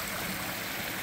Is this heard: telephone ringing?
no